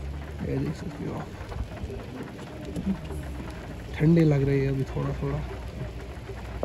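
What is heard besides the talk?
rain falling at Gulmarg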